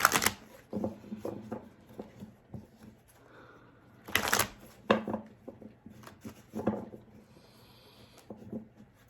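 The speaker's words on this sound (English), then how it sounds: "I'll do 3 more shuffles for Cancer." Tarot cards are shuffled in several quick riffling bursts, close and crisp, separated by quieter pauses with light handling noise.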